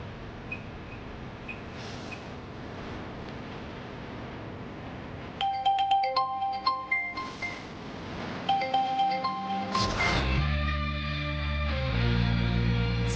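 A phone rings on and on without being answered in a Tamil TV serial scene. Repeated electronic chiming tones come in bursts over background music, which swells loudly toward the end.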